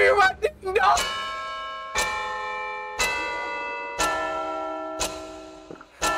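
In a Five Nights at Freddy's themed Geometry Dash level, a ringing bell strikes once per second, each bright toll decaying into the next, while a voice talks over the first chimes.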